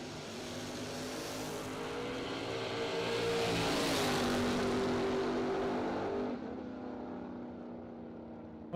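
Drag race cars, including a first-generation Camaro, launch down the strip with a loud, sustained engine roar that builds, holds strong for several seconds, then shifts and eases as the cars pull away.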